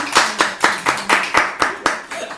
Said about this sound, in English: wanna clap? Yeah, I'll clap.